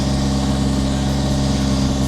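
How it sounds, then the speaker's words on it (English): A Nissan 180SX engine, running with a fault and unable to idle, runs loud and close with a steady, rough low drone. "it doesn't idle, but it revs."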